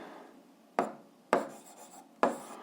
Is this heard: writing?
yes